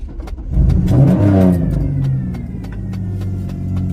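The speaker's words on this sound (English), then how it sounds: "You want your engine to make some noise." A car engine revs up loud and close, climbing in pitch with a rising roar that then settles into a steady idle rumble, with no talking over it.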